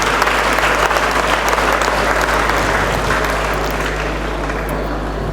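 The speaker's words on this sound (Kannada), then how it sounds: "ಈ BVV ಕಮ್ಯುನಿಟಿಗೆ ಜೋರಾದ ಚಪ್ಪಾಳೆಯ ಮುಖಾಂತರ ನಮ್ಮ" Loud, sustained applause from a crowd at a school's 39th annual day celebration, a thick continuous wash of clapping over a low electrical hum that holds strong for over five seconds.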